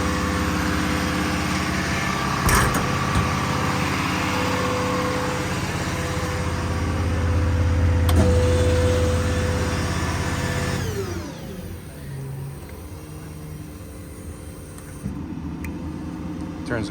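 A 2011 Ford F-550 crane truck's 6.7 diesel drones steadily nearby, its tone rising and then dropping in level partway through, with a voice talking over it.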